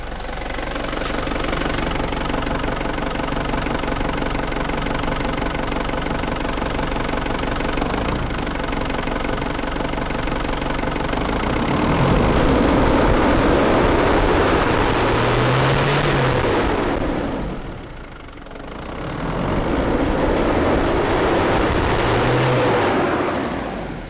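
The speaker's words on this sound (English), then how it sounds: "I'm just gonna rev this engine now" Engine of a Holden Isuzu Rodeo with a lack-of-power fault, revved from idle: a steady loud drone that swells into a rising rev, drops back briefly, then climbs again. No talk.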